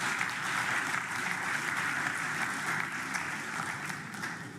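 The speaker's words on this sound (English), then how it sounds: "a round of applause to all of us" An audience at an inter-school public speaking competition claps together, a fairly quiet, even patter of applause heard from some distance that carries on steadily for several seconds before easing slightly at the end.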